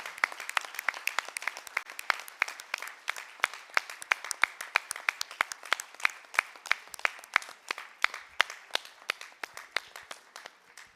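Closing-session audience at a railway security congress breaks into sustained applause, a dense rhythmic patter of many hands clapping steadily throughout, fairly distant in a large hall with no speech over it.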